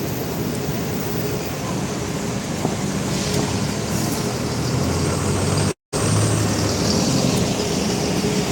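Buses pass and idle at Newcastle Haymarket bus station, a steady, broad engine and road rumble filling the whole span, briefly cut out once near the end before resuming at the same level.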